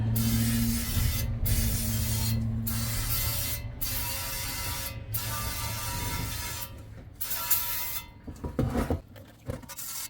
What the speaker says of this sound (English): Just spray it off good.